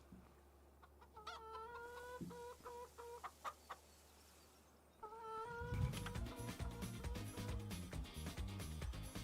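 Chickens cluck in the farm game Farming Simulator 25, several short repeated calls rising over a quiet ambient bed, then a louder, busier stretch of clucking and farm noise in the second half.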